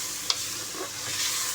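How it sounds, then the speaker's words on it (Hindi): Onion, tomato, garlic and ginger stirred in a pot for an aloo chicken shorba, with a brief spoon scrape over a soft continuous sizzle. "अब इसको अच्छे तरीके से मिक्स करेंगे।"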